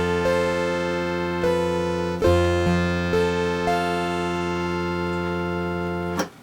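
A Yamaha PSS-460 FM synthesis keyboard plays its first preset, a bright, buzzy sustained tone of overlapping notes changing every second or so, close and steady, with no talking.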